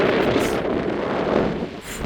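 Strong wind buffets the microphone outdoors on a street in Armenia, a steady low roaring rumble with gusty swells that persists throughout and briefly eases near the end.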